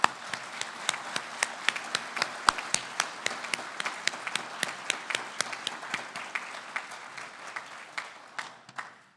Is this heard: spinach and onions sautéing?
no